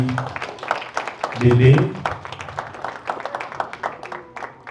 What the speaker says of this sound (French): On peut applaudir pour les jolis